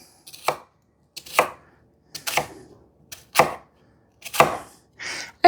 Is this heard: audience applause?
no